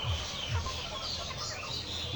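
Layer hens on a poultry farm cluck in low, soft bursts amid a dense, steady hum of farm noise, the calls overlapping at moderate distance with no talk over them.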